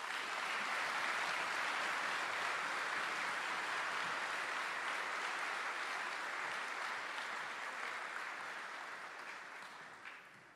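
Sustained applause from a large crowd at a high school graduation ceremony honoring student speakers, dense and loud, holding steady before gradually fading toward the end.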